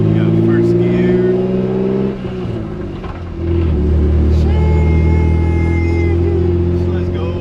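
A BMW E36 fitted with a 2.93 differential and solid diff bushings accelerates hard in first gear, its engine droning loudly and rising in pitch, dipping briefly, then climbing again close up inside the cabin.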